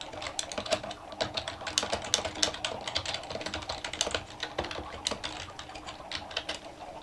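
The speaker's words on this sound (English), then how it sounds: "I have a feeling that my keyboard is a little bit too noisy for this" Fast, continuous typing on a loud computer keyboard, dense clattering keystrokes close up and alone for the whole stretch.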